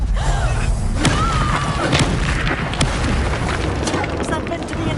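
Confringo fire spells blast repeatedly in a Hogwarts video game, giving dense booming thuds with crackling bursts that run continuously and loudly under a voice.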